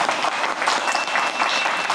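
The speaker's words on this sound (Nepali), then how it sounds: "एक पटक आफ्नो सम्मानका निम्ति आफै ताली बजाइदिनु होला" Audience applause at an award and honour ceremony during a live concert: steady, dense clapping from many hands, loud and continuous for the whole stretch.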